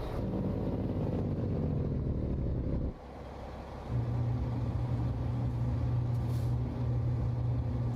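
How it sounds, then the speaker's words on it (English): American Truck Simulator truck engine with its cooling fan running, a steady low drone that dips briefly before a constant humming tone settles in, no talking. "it sounds like the engine fan is running"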